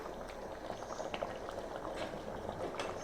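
Sambar for a Kerala feast simmering in a pot, a steady soft bubbling and fizzing that runs evenly throughout at low volume, with no voices.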